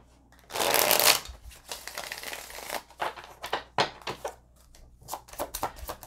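Oracle cards being shuffled in a deck, a loud dense riffle burst followed by a run of shorter, quieter card flicks and slides, close and with no talking.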